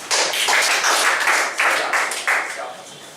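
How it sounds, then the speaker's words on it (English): An audience at a public speaking training session claps their hands, a loud, dense burst of applause that surges in waves and gradually thins toward the end. "Clap your hands."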